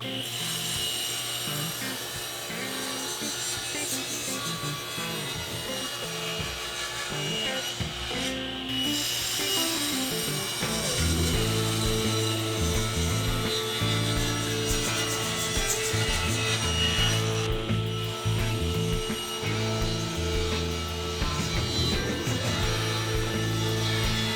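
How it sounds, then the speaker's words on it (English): Cherry boards are ripped into strips on a power saw, a continuous loud buzzing cut with rough wood-grinding texture that shifts in pitch as the blade bites harder, broken by short dips, with no speech. "I'm going to rip off 2 strips of lumber"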